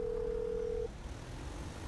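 Phone call tone in the video game GTA 5: a steady, quiet electronic tone holds for just under a second and then cuts off, leaving low background hum.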